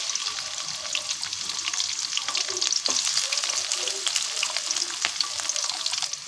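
Onions fry in soybean oil while being stirred, a continuous close sizzle broken by the scrape and clatter of a spoon against the pan, with scattered sharp crackles and no speech.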